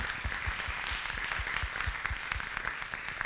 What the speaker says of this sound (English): let's give our experts a round of applause